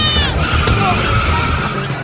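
Car tyres squeal in a loud, brief skid during a car scene from the comedy film Flat Stanley, with the screech rising over a dense, noisy background.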